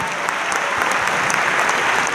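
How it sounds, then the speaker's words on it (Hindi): An audience claps loudly and steadily at a training event in Kolkata, a dense, continuous wash of applause that stays close and doesn't let up. "आपके सारे ग्रेट हिट के लिए जोरदार तालियां हो जाए।"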